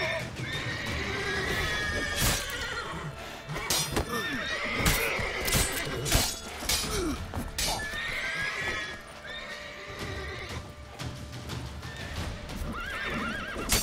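A horse in the video game The Witcher 3: Wild Hunt whinnies several times amid hoof clip-clops and combat sounds, fairly close and prominent, with little talking.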